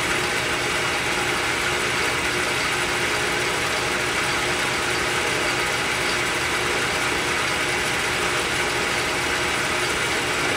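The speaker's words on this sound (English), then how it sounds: "There's the auto feed." A lathe cutting an external curve with a boring bar on auto feed gives a steady, loud mechanical whir and grinding hum that holds unchanged throughout, with no voices.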